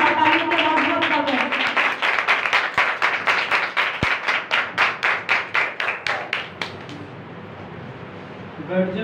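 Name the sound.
congregation clapping to welcome the preacher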